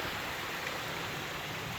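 Running water in a small rocky drainage stream along a hiking trail, a steady broad rushing wash without pauses, moderately close and fairly soft, with no voices.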